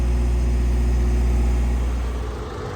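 A machine's engine runs hard during a service regeneration, giving a loud, steady drone with a deep low hum that holds evenly before dropping back a little near the end.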